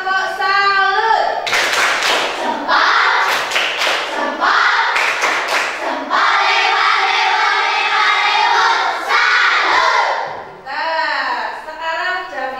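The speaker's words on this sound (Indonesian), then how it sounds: "Tepuk salut." A primary school class claps in a quick patterned rhythm for an Indonesian salute clap, bursts of sharp hand claps alternating with chanting voices, close and lively.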